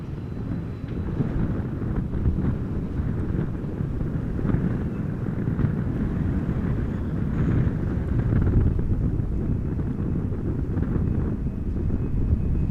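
A jet airliner arrives in a strong crosswind at Amsterdam Schiphol Airport, its low, steady engine roar blending with heavy wind buffeting on the microphone for the whole stretch, with no one speaking.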